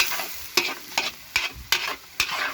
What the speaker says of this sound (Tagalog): Gulay. Yun, karot. Sangkotsahin nyo lang po.